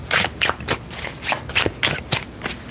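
Tarot cards shuffle in quick repeated riffles, about eight crisp bursts in under three seconds, close to the microphone and loud with no talk.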